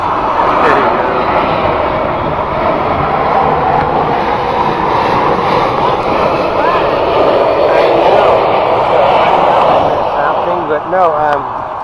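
A low-flying airplane passes overhead as a loud, steady, broadband engine roar that fills the whole stretch, with people talking underneath.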